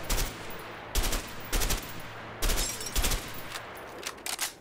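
An MP5 submachine gun fired in short bursts in A Way Out, several loud rattling volleys separated by brief pauses, fired at empty houses.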